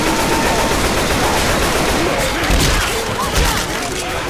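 Rapid gunfire and heavy shooting in the video game Left 4 Dead 2, sniper rifle shots amid a loud, dense barrage of bursts and booms filling the whole stretch, with no voices over it.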